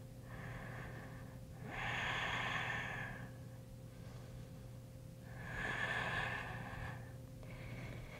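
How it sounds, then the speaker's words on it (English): Two slow, audible breaths, each a soft rushing exhale lasting about a second, come close and faint from a yoga instructor holding an advanced heart-opening pose, over a low steady hum. "hopefully you could even hear me breathing that whole time"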